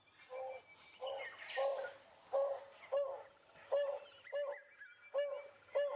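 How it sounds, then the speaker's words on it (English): A red-chested cuckoo call plays from a phone app outdoors at a sunrise safari in the Sabi Sand: a steady series of about eight similar call notes, evenly spaced and fairly clear, over quiet background. "Red-chested cuckoo, everyone, up in the top of the tree."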